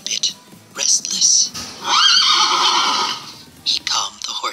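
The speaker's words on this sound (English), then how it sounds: "he heard the horse giving out a terrifying neigh" A horse in the Roblox game Guesty gives out a loud, drawn-out whinny between shorter neighing bursts, close and alone with no talk.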